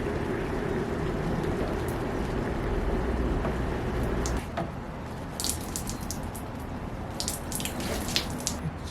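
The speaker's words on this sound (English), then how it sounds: "I'm going to put some boiling water on this just to kind of preheat" Boiling water is poured over a glued wooden joint, giving a steady splashing trickle that pauses briefly and then continues in faint bursts and drips.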